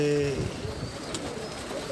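Pigeons coo softly in low, repeated warbling calls, with a brief voice at the start and light background noise.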